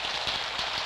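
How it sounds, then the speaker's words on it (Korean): Steady rain falling on a wet day, a dense even hiss of drops with no pauses, heard briefly and softly. "비가 내리는 어느 날"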